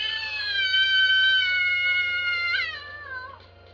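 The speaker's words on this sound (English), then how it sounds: "The worst cat voice I have ever heard in a video game." A cat voice in the Kanon video game gives one long, clear, high meow that holds steady, then drops and bends downward as it trails off, alone over a low electronic hum.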